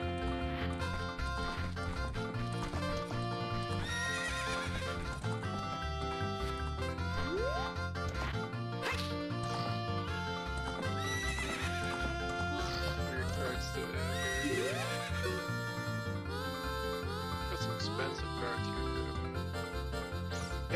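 Music plays with a horse whinnying and hooves clip-clopping inside the Zelda Ocarina of Time video game, with several neighs rising through the steady game soundtrack.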